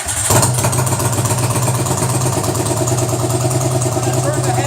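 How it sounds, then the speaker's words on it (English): A motorcycle is started and its engine settles into a steady idle, the running note holding loud and close right after a brief starter burst at the opening. "I'm going to turn the bike on."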